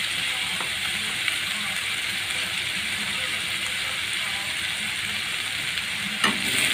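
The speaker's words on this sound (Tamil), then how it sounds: "சேர்த்து நல்லா வதக்கிக்கலாம்." Chopped banana stem fries and is stirred in a pan with a little salt, giving a steady sizzle with occasional scraping and clicking from the stirring, heard close.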